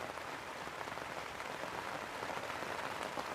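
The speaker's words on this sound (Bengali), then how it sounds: "সকাল থেকে বৃষ্টি।" Rain falls on a chilli field in the rainy season, making a steady, even hiss of drops that goes on without a break and with no voices.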